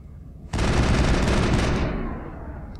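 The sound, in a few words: rapid gunfire from video game Mass Effect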